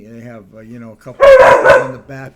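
A pet dog gives a short burst of loud, close barking that breaks in over someone talking, two or three sharp barks clustered together before the speech resumes.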